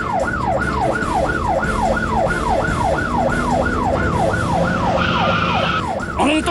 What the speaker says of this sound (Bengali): আরে আরে পুলিশের সাইরেন!